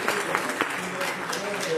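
Brief applause from an audience at a Turkish business networking event honouring entrepreneurs, moderate clapping heard from a distance with talk over it.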